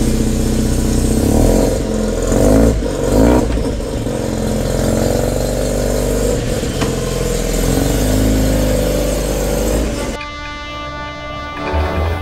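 Engine of a Maxton Rollerskate car driving on rural back roads, a loud continuous drone that swells under acceleration, heard close from on board for most of the stretch before dropping away near the end.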